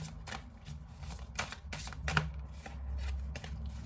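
Tarot cards shuffled and drawn in a French guidance reading, giving a run of close riffling and papery slaps with a few sharper flicks, against faint background hum and no speech.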